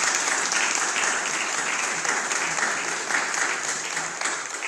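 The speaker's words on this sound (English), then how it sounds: "You can clap." A church congregation applauds during Sunday worship, a full, sustained round of clapping from many people that carries on evenly and tapers slightly at the end.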